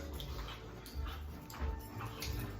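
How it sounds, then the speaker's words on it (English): Dogs playing indoors, with scuffling, soft yips and whines in quick irregular bursts, fairly faint. "My dogs are playing, so if you hear them, I apologize."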